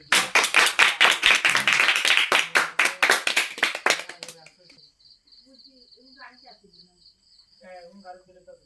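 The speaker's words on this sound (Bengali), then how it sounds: "সবাই মিলে সবার জন্য একটা জোরে করতালি হয়ে যাক" A group of children claps loudly and rapidly for the winners of a classroom game for about four seconds. The applause then stops, leaving a quiet room with faint background sounds.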